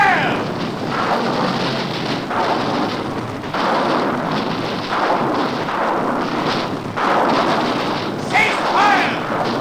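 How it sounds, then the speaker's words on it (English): Sustained barrage of artillery and rocket fire in a 1950s science-fiction film battle, dense booming rumble with overlapping blasts, loud and continuous throughout. "Artillery batteries fail! Rocket batteries fail!"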